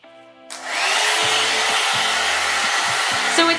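A blowout hair dryer brush runs on hair, with a loud, steady whirring blower hum that switches on sharply after a half-second pause, stays constant with slight pitch wavers, and changes briefly at the end.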